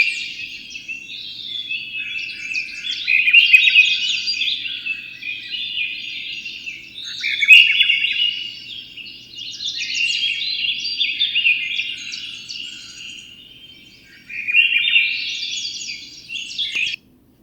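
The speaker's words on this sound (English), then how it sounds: "Swainson's thrush, I think of it as a kind of a rolling whistling sound." A Swainson's thrush sings alone in the open, repeating rolling, spiraling whistled phrases that rise upward, clear and fairly close, with short pauses between songs.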